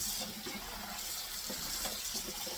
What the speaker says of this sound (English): So I'm going to probably run water over these for the next few minutes